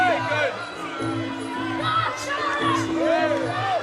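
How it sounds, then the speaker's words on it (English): A fight crowd at a muay thai event chants a fighter's name in a rhythmic, repeating pattern, loud and sustained under a commentator's steady talk. "As the crowd start chanting Charlie's name."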